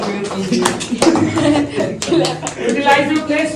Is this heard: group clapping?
yes